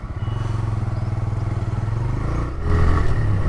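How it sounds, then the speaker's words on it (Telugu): A TVS Raider 125 motorcycle's exhaust thrums in a steady sporty beat while riding, the rhythmic pulsing engine note rising in revs near the end, close and without talking. "సో ఎగ్జాస్ట్ నౌట్ అయితే చాలా బాగుంది, అంటే స్పోర్టివ్ ఆ బీట్ అనేది ఉంది."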